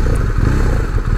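A BMW R1250R motorcycle's boxer engine accelerates, giving a loud, close, rough rumble with a clattery edge through a short burst.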